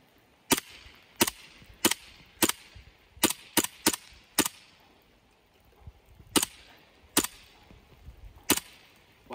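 An HK USP airsoft pistol fires at a PACA level 2 vest, about a dozen sharp, loud cracks coming singly and in quick pairs with short pauses between, nearby and without voices.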